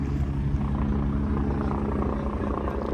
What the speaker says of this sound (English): Sounds and looks like there's a Lynx helicopter coming into land in the backfield.